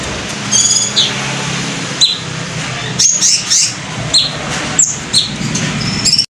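A Fischer's lovebird at an Indonesian bird market chirps in repeated short bright bursts, close and fairly loud over a steady background hum.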